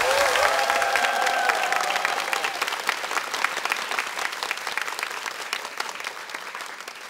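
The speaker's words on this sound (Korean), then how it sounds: "큰 박수 부탁드릴게요." An audience at a talk concert breaks into loud, sustained applause that gradually thins out, with a sustained tone sounding over the first second.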